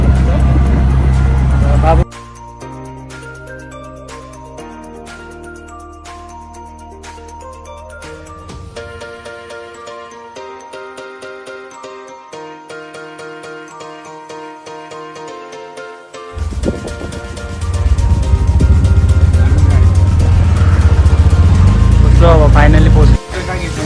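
An auto rickshaw ride in Nashik: music plays for the first sixteen seconds, then loud, steady engine and road rumble fills the rest of the ride.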